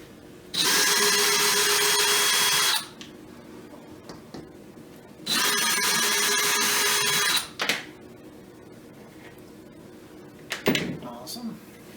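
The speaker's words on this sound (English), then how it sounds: "we're going to take the screws out" A power drill backs screws out of a cabinet drawer front in two loud, steady whirring bursts of about two seconds each, separated by quiet handling clatter and a few knocks.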